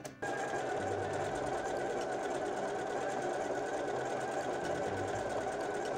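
A household sewing machine stitches steadily, running an overlock-style edge stitch in a fast, even mechanical whir that starts abruptly and continues loud and close throughout.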